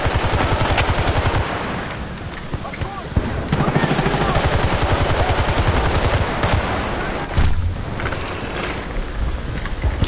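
An MG36 machine gun in Battlefield Bad Company 2 fires long rapid bursts, loud and close, with short pauses between volleys and dense battle noise throughout.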